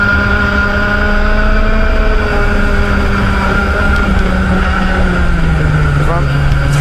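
KA3 Junior Heavy racing karts accelerate away at the start of a race at Ipswich, their engines rising and falling in a buzzing, overlapping whine, with a commentator talking loudly over them.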